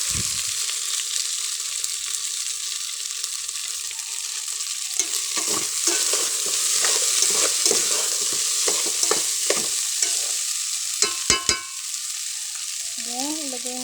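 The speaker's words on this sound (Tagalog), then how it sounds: "Mais. Halo-haloin lang po natin." Corn kernels being stirred as they sauté in a pan with moringa leaves, a steady close sizzle broken by scraping, clattering strokes of the spoon, with no talk.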